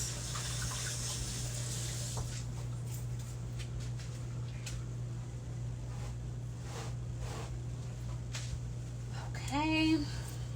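Rinsing under a running kitchen tap while decorating a striped buttercream cake: a steady, even hiss of flowing water over a low hum, with a brief squeaky, chirping sound near the end.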